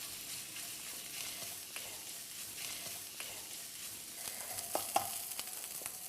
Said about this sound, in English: you've just got to fry the onions on quite a high heat until they change color